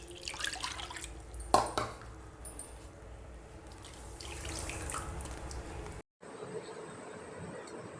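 Water is poured into a cup for Mysore pak sugar syrup in a home kitchen, a soft trickling and splashing stream with a brief clink, quiet and close with no voices.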